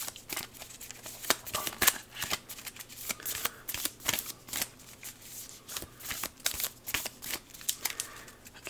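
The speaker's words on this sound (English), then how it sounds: "so I'll shuffle this up" Aeons End game cards are shuffled by hand in repeated crisp riffling bursts, close up and moderately loud, with short pauses between passes.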